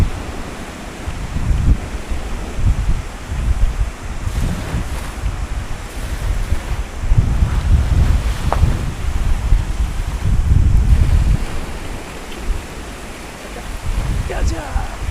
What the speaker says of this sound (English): There's definitely some waves.